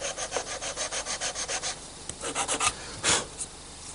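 Wood pieces hand-sanded in a workshop, touching up spots a spindle sander can't reach; rhythmic close scratchy strokes, roughly a dozen quick back-and-forth rubs with brief pauses, no talking.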